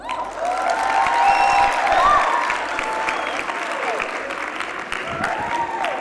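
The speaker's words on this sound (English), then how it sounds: "Please give a warm round of applause to Cody Gordon." Audience at a youth expo bursts into sustained applause, a dense wash of clapping with some cheering and scattered screaming that holds steady throughout.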